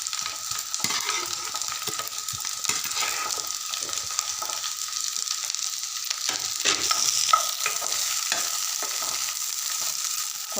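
Eggplant frying with already-browned onions in a pan, a continuous bright crackling sizzle close up with occasional stirring scrapes, fairly steady in loudness.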